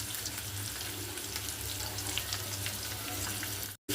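Sliced onions fry in oil with curry leaves in a pan, giving a steady, close sizzle and crackle that runs evenly before cutting off abruptly near the end.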